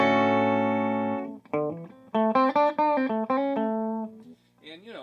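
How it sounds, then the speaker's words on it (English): Clean electric guitar played through the stock vibrato channel of a Frugal Amps modified Blackface Deluxe Reverb amp: a long ringing chord fades, then a run of distinct single notes and a final ringing tail, loud and close with no talk. "it's got the tone that the Deluxe Reverb's noted for, which is a really nice clean, a nice balance"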